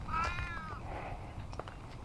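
A house cat gives one drawn-out meow at close range, followed by quieter rustling and a few soft clicks, with no talking.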